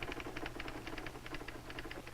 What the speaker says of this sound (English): I've learned to type steadily